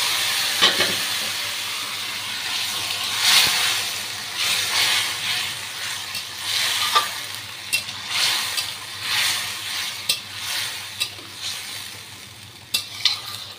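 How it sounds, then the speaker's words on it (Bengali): Hot water going into a simmering Bengali fish roe curry with potato and vegetable stems: steady sizzling and frying hiss with bubbling, and recurring scraping stirs and clinks of a spoon against the pot, close and fairly loud. "এখানে একটু গরম জল বসিয়েছিলাম, আমি সেই গরম জলটা এটার মধ্যে অল্প একটু দিয়ে দেবো।"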